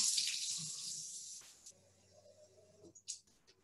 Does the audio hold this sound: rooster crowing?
no